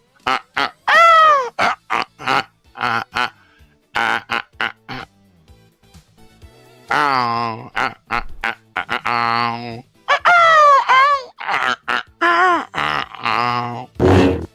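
A person imitates a flamingo's call with a string of strained, wavering honks and groaning cries, loud and close, in short bursts separated by brief pauses, with some spoken chatter mixed between the calls.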